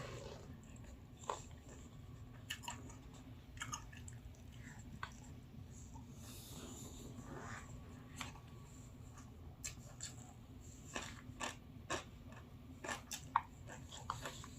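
Quiet close chewing during a meal of rice with stir-fried beef and kimchi: soft irregular mouth clicks and bites over a low room hum, faint and intermittent.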